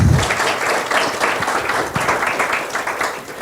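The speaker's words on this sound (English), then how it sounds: "Could you please give him a round of applause?" Conference attendees at a Sudan conflict conference applaud the organizing committee, a full, loud burst of many hands clapping that holds steady, with a few thumps and low crowd noise mixed in.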